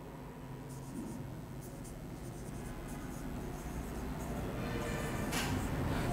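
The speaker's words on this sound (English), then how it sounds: "So we'll write here odd numbers, and here I'll write even numbers." Chalk or marker scratching and tapping on a board as numbers are written in a classroom, faint and steady over quiet room noise.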